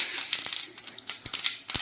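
Sharp, irregular pops and crackles of mustard seeds bursting in hot oil, close by, scattered across the moment without speech.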